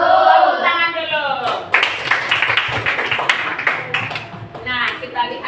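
Children in an elementary classroom clap together in a dense burst of hand claps that runs through most of the moment, with a teacher's voice and children's voices speaking over it.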